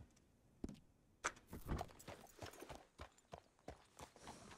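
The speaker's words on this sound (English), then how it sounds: "There's the horses." Horse hooves clip-clop at an uneven walking pace in the Western video game Red Dead Redemption 2, quiet and fairly close, with no talking over them.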